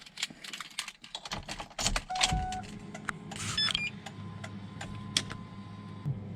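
Clicks and ticks, then a turbocharged 500+ hp Ford Mustang GT engine cranks on a cold start and catches into a low, steady idle rumble, with scattered clicking continuing over it.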